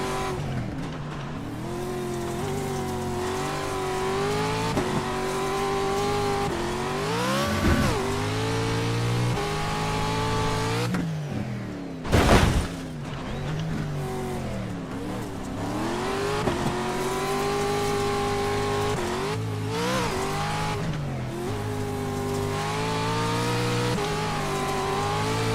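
NASCAR stock cars racing at Michigan, a loud continuous engine roar with rising and falling revs as cars pass, one brief sharp burst midway, and no voices.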